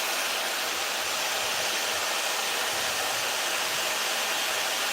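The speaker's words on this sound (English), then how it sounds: "now I'm going to cup the hair, and now I'm gonna switch to Pixie Diffusing." A hair dryer running with a diffuser attachment for pixie diffusing wavy hair, a steady, close, loud rushing whoosh of air that holds unbroken throughout.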